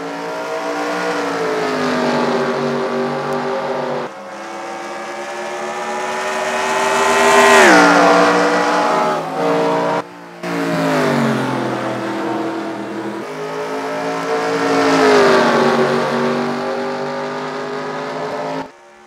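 Race cars from a Piston Cup championship 500 at Phoenix Raceway roar past loudly, engine pitch rising and falling through several close pass-bys with brief dips between them, no talk over the sound.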